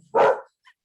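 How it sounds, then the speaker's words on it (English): A single short, loud dog bark, close to the microphone, followed by a faint trailing sound. "So apologies for the dog barking."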